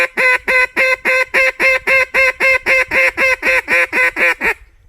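A duck call blown in loud championship-style calling: a rapid, evenly spaced run of about fourteen sharp, nasal quacks, close and alone, cutting off abruptly at the end.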